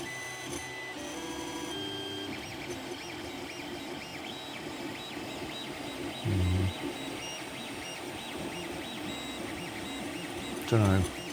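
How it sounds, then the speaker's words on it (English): A 3D printer prints a solar pulse motor base, its stepper motors whining and buzzing in shifting tones with occasional louder mechanical bursts. A voice speaks over it. "It's a fairly random item I'm printing."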